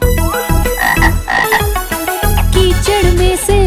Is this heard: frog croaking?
yes